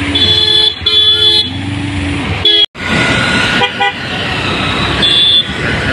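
Heavy traffic on the Srisailam outer ring road, with loud repeated car and bike horn toots of varying pitch over continuous engine rumble, close and crowded.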